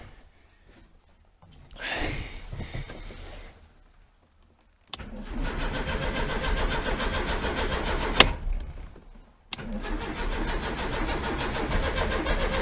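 A 1973 VW Super Beetle engine fitted with a Dellorto FRD 34 carburetor cranks and catches, stalls briefly into silence, then restarts and settles into a loud, steady air-cooled idle up close.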